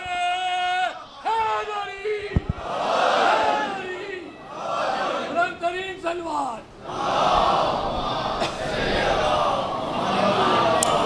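A large crowd at a Muharram religious gathering shouts slogans in unison, loud call-and-response bursts alternating with a leading voice, chant waves swelling and dropping over several cycles.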